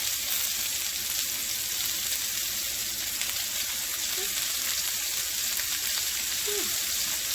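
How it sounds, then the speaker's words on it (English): Mushrooms sizzle and fry in butter or tallow with garlic in a pan, a steady, moderately quiet broadband hiss with small crackles running throughout. "And then now I'm going to start adding all of my mushrooms to this."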